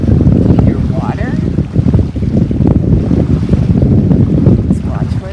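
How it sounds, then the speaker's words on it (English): Loud gusting wind buffets the microphone at the bow of a sailboat, with rushing water and waves churning underneath and faint voices partly buried in the roar. "Do you hear wind? Do you hear water?"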